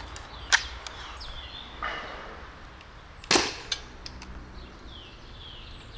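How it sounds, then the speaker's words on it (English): An HDS 68 CO2 shotgun fires bamboo darts: two sharp, snappy pops a few seconds apart with a fainter pop between them, over quiet background noise. "now the same with the shotgun, and we'll start with the bamboo darts"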